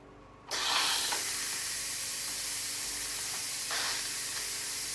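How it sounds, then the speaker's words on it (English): A pressure cooker holding langostino risotto vents steam in a sudden loud hiss that keeps blasting steadily, close and continuous, until the end. "We're gonna release the steam on our risotto now."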